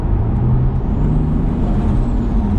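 A Lexus IS200 with an automatic gearbox accelerates at part throttle, a steady, loud engine drone with a low hum that holds its tone through the gear change, heard from inside the car.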